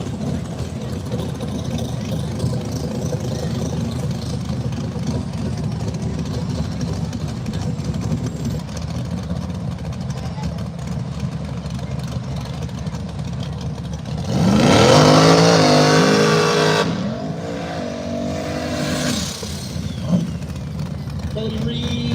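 Drag racing cars, a Mustang and a Vega, idle and rumble at the line, then one engine revs hard and loud in a rising burst before dropping back; an announcer talks over the engines.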